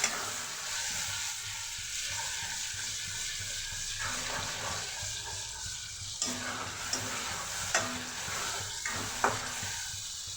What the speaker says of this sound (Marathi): खोबरं घालून घेते वाटलेलं. त्यामध्ये मी टमाटर पण वाटलेला आहे.